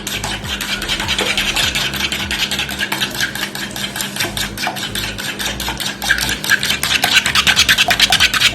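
Leek filling being stirred with a little cream for a pie, a busy close scraping and rubbing of utensil against bowl in fast continuous strokes.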